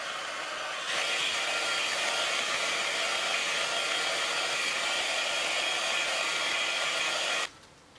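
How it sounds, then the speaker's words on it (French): A hair dryer blows continuously while drying freshly chopped curly hair, a steady loud whooshing hiss that starts just after the beginning and cuts off near the end, with no voices. "finalement je vais sécher au sèche-cheveux"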